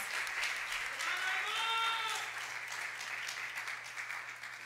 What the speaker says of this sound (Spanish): ¿Por qué no le damos un aplauso fuerte al Señor?